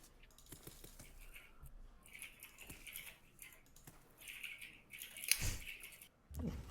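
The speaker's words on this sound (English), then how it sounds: "I could just hear like someone like on a mechanical keyboard the entire time" Faint, steady clicking of keys on a mechanical keyboard runs in the background during an online card game session, quiet and continuous with scattered sharper ticks.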